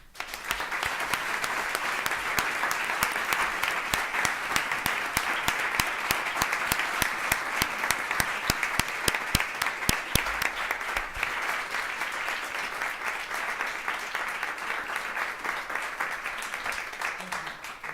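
Sustained applause for students at a Newton school committee meeting fills the room, with dense, steady clapping that holds an even level for about eighteen seconds before easing slightly at the end.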